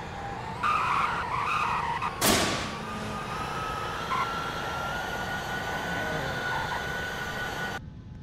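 A BMW in a video game drag race, with a steady engine drone, a sharp burst of tire skid, and whining tones running through the race.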